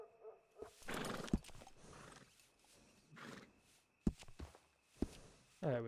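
A horse in Red Dead Redemption 2 gives several whinnies and snorts between hoof clops, close and fairly loud in the game's quiet surroundings, with one sharp rising whinny at the end.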